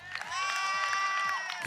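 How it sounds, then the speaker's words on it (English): Crowd cheering and whooping for hotel staff, a sustained loud wall of voices with some clapping mixed in, steady throughout the short burst. "Give them a huge round of applause for putting this up for us."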